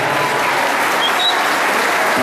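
Loud, steady applause from an audience of parents at a kindergarten graduation ceremony in Naolinco, a dense unbroken wash of clapping hands filling the whole stretch.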